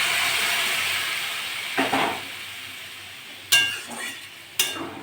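Hot water poured into a simmering tilapia, potato and ridge gourd curry in a pan, giving a steady hiss and sizzle with several sharper splashing bursts and stirring clatters, close and with no talk.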